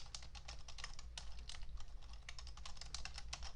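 Quick, steady typing on a computer keyboard as an axis label is entered in a spreadsheet chart, a continuous patter of light key clicks, close and fairly faint, with no talking.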